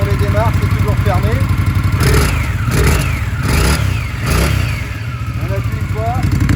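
An Indian motorcycle fitted with a Jekill electronic valve exhaust, revving repeatedly with loud rising and falling engine swells over a steady rumbling idle, close by, with a voice talking at times.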